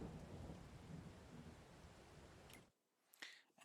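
Steady rain and rumbling thunder in the farming video game Farming Simulator 2022 roll as a loud, dense wash that cuts off suddenly, leaving a quieter tail with a couple of soft crackles.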